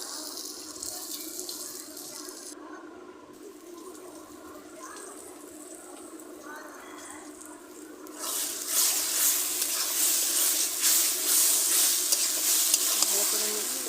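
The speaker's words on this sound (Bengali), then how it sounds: "মশলাটা ফ্রাই হয়ে আসছে আমার।" Spiced masala sizzling and frying in a pan for a mutton curry, with steady stirring scrapes throughout and the sizzle growing louder and brighter in the final seconds.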